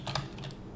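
Quick keystrokes on a computer keyboard while entering a command, a handful of light clicks in close succession over a low steady background hum, with no speech.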